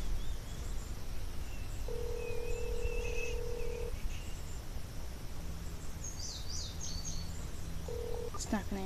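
A house telephone sounds faint dialing tones, a few short and steady beeps over a hissy, noisy background, with scattered high chirps mixed in.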